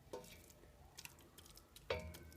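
A spoon mashes soft cooked keşkek, a Turkish wheat-and-meat dish, in a pot, giving a few faint, quiet scrapes and soft clinks spaced about a second apart.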